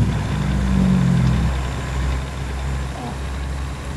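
A truck engine in American Truck Simulator, pulling slowly up to speed with an 18-tonne load, as a steady low drone that stays close and loud throughout.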